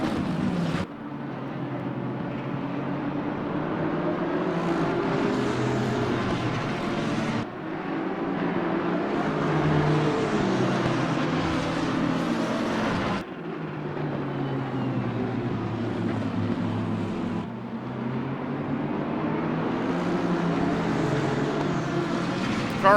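A BMW M6 GT3 race car at Spa in Assetto Corsa Competizione drones with a loud, continuous engine note, rising and falling through gear changes, with abrupt shifts in tone as it laps.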